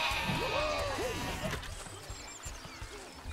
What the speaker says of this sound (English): Actually, let's kill some sheep